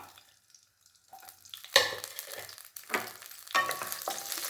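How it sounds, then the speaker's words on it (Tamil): Green chilies hit hot oil in sudden sizzling bursts, each flaring up then fading, after a quiet start with a few small clinks. "எண்ணெய் காஞ்சதும் பச்சை மிளகா"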